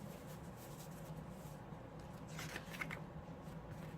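Small blank note cards are handled and shuffled, giving soft, close papery flicks and rustles, with a brief cluster of crisper snaps in the middle against quiet room noise.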